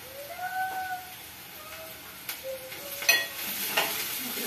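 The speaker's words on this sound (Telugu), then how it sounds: "కొంచెం బాగా ఫ్రై అవ్వాలి ఆనియన్స్" Onions frying in a pan at home with a steady soft sizzle throughout, a few light clinks of stirring, and faint chirping tones drifting in the background.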